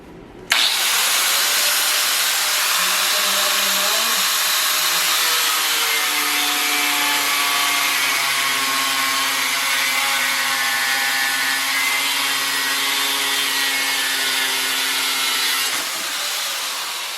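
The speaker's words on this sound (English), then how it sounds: "All I'm using is a old die grinder" An old Makita die grinder spins up and whines steadily at high pitch, its tone sagging as it cuts through waterproof vinyl plank flooring, then winds down at the end.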